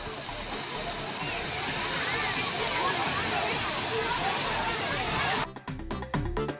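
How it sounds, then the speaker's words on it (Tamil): Kumbakkarai waterfall, at the foot of the Western Ghats and swollen by summer rain, pours heavily in a loud, dense, continuous roar that cuts off abruptly near the end, after which broken, uneven noise follows. "மேற்கு தொடர்ச்சி மலை அடிவாரத்தில் உள்ள கும்பக்கரை அருவியில் கடந்த சில நாட்களுக்கு முன்பு பெய்த கோடை மழையால் அருவியில் நீர் அதிக அளவில் விழுகிறது."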